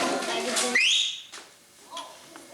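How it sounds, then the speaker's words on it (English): A person whistles a rising note to call a seated class to attention, loud and close, with a teacher's voice heard just before the whistle and a quieter room afterward. "I just thought I would try whistling for a change."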